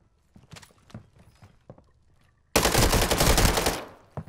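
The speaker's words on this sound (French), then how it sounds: "Allez Xbox, tire-leur dessus." Loud burst of automatic gunfire from an Xbox video game, a dense sustained volley of about a second and a half that follows quieter clopping game sounds and ends abruptly.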